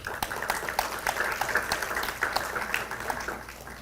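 Applause from the audience at a law conference on Peru's 1993 Constitution, a lively patter of many hands with distinct individual claps standing out, steady and fairly close throughout.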